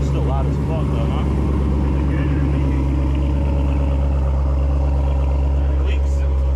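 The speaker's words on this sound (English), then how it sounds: "Engine's up and running." A 6.2-litre LS3 V8 swapped into a Mercedes runs loud and close with a deep, steady rumble throughout, and people talk over it.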